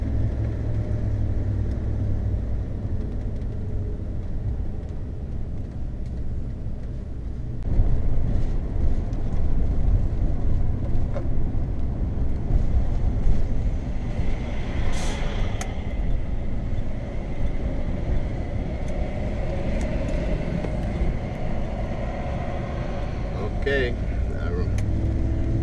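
An RV rolls along the highway on a Route 66 road trip, giving a steady, continuous low road-and-engine rumble that grows slightly heavier partway through, with faint voices underneath.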